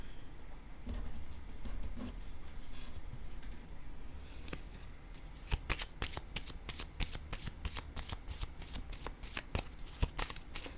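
Cards being shuffled for a card reading, a rapid run of crisp riffling snaps close by, building after a quieter opening and continuing steadily to the end.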